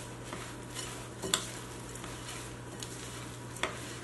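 Oats being stirred into a homemade vegan granola bar mixture, a faint scraping and swishing with a couple of sharp clicks of a spoon against the bowl, no voices.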